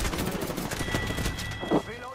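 Gunfire in the Apex Legends video game crackles in rapid bursts over a steady game mix, with a sharper thump near the end; players talk over it.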